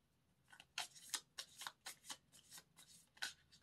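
Playing cards shuffled by hand in a quiet room, a run of crisp riffling bursts at an uneven rhythm, close and fairly soft, with no talking.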